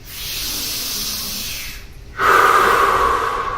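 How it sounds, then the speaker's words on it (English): Deep Wim Hof-style breathing with big, full breaths drawn in from belly and chest: a long airy inhale, a short pause, then a louder, stronger rush of breath, close to the microphone with no talking. "These are big breaths. Make sure you're breathing in fully from your belly and your chest too."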